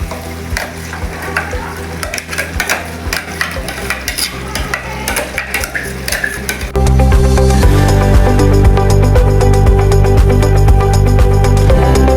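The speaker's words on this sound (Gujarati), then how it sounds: "હવે અંદર ઉમેરીશું ગ્રેવી, ડુંગળી ટામેટાની." Onion and tomato gravy goes into a hot pan with a loud, continuous sizzle and rapid scraping strokes of a spoon, the frying roaring louder and denser about halfway through.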